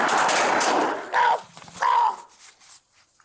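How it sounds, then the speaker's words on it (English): A suspect's gunshot aimed at a police officer: a loud broadband burst opens the clip, followed by two shorter sharp reports with ringing tails, then quieter fading echoes. "The suspect got the first shot off on the officer."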